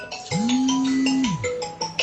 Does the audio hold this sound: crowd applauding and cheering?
no